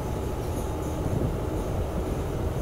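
Continuous broadband roar of a train running on rails after leaving Ban Mai Samrong station in Thailand, steady and close, with a dense rushing rumble and no voices.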